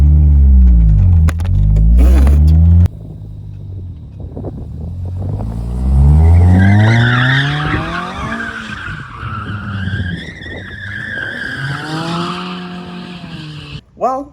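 A 1991 Mazda Miata on a test drive after a clutch master and slave cylinder replacement, its engine revving and pulling through gears with rising and falling pitch and some tire noise, loud and close throughout.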